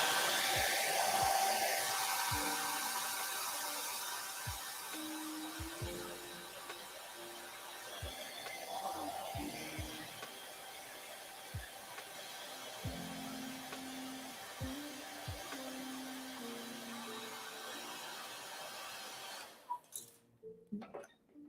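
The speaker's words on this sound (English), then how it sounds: "I'm just heating these things up. Cooking a little paint." A heat gun blowing hot air to cure fresh paint in an aircraft cockpit gives a steady, close, loud whoosh with faint clicks under it, then cuts off near the end before a few quiet knocks.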